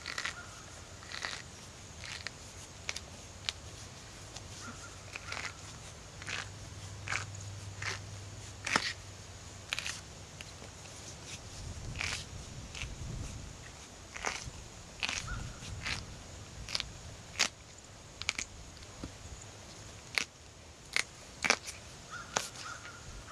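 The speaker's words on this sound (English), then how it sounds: "I'm going to start really squeezing on this until I can hear like a ripping noise, I guess, or a crunching" A dried luffa gourd squeezed by hand, its rind breaking away with a series of sharp crackling and crunching snaps, close and fairly quiet over a low background rumble.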